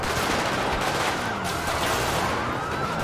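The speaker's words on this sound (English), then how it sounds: "Still shots fired" Dense gunfire in GTA 5 during a police patrol in Los Santos, a continuous loud rattle of rapid shots filling the scene without a break.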